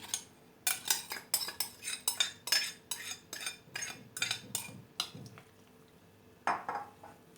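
A spoon clinks and scrapes against a bowl as lahmacun dough is mixed and flour is added, giving a steady run of sharp, close taps that pause briefly near the end before a final burst.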